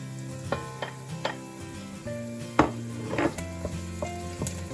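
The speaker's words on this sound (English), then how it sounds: "we'll heat the oil in a large casserole dish over medium heat, and we'll cook the onion until soft and translucent" Onion and garlic fry in oil in a large casserole dish over medium heat, a soft sizzle broken by several sharp clinks and scrapes of a utensil against the pot.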